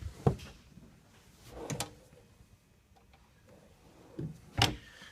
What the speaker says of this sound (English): these rolling drawers, sliding drawers, and they're both lockable